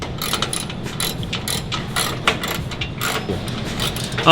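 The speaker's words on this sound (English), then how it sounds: "Just gonna get these screws out and paint them black" Screws being backed out of an Impala emblem on a car, giving a steady run of loud, close ratcheting clicks from a tool that continues throughout without speech.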